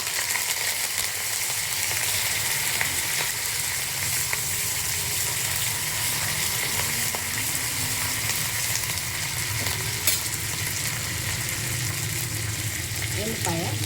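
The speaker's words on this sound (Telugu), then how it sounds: "ఆయిల్ వేడైంది, ఆవాలు వేసుకుందాము." Mustard seeds, cumin and curry leaves are tempering in hot oil for a gongura chutney, giving a continuous close sizzle with faint crackles. It holds steady for the whole stretch.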